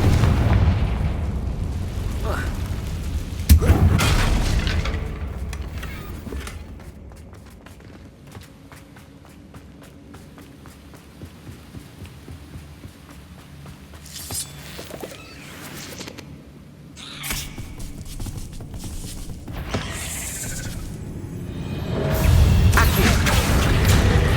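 Explosive spell blasts in the Hogwarts Legacy video game, a few loud booms and bursts at the start and end with quieter rumbling combat noise between.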